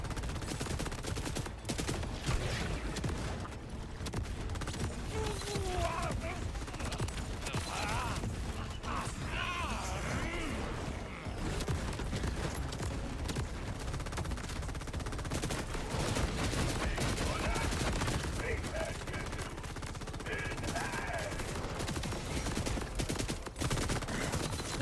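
Daedalus gun firing in the video game Borderlands, a steady stream of dense, continuous gunfire and rattling bursts that fills the whole stretch at a constant loud level, with faint game effects mixed underneath.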